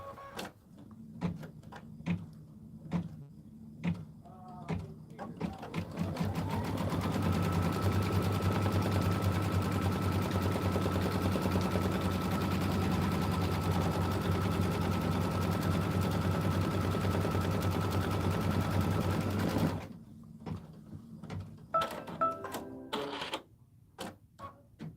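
An embroidery machine sews a placement stitch on a quilt block, a steady rapid mechanical whirring hum running unbroken for about thirteen seconds at close range, with light clicks and handling sounds before and after.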